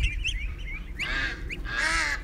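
Young Canada goose goslings on a free-range farm give a few close, high honking calls in quick succession, with faint background noise and no talk.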